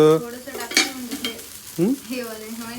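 Dosa batter frying in oil on a pan gives a soft sizzle, broken by brief scraping and clinks of a spatula, with faint voice-like sounds in the background.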